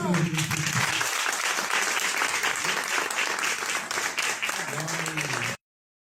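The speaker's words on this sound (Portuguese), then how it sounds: "Aplausos" A church congregation applauds newly baptized members after a water baptism, full steady clapping from many people with voices mixed in, ending abruptly.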